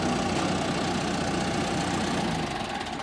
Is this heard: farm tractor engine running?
yes